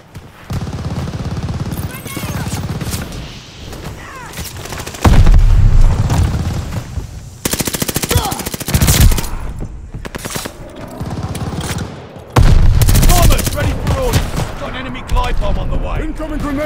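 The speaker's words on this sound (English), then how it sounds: "Glide bomb set to drop." Glide bomb dropping in Call of Duty: Vanguard amid heavy combat: loud repeated booms and explosions mixed with bursts of automatic gunfire, coming in waves of intense noise with announcer-style voices in between.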